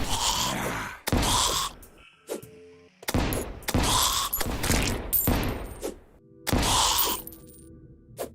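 Grenade explosions in Terraria, a run of loud, sharp bursts, about six blasts in eight seconds with brief gaps of clinks and mechanical effects between them.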